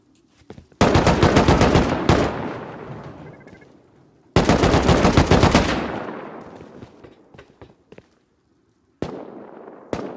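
Bursts of heavy video game gunfire from a raid, loud and close, come in three rapid volleys separated by short silences, each ringing out with a fading tail.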